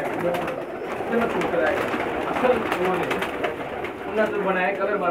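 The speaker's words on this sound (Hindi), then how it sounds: "माशाल्लाह बहुत अच्छे कबूतर हैं जी।" Dense, steady cooing from many Pakistani pigeons at once, a continuous murmuring chorus with people's voices mixed in the background.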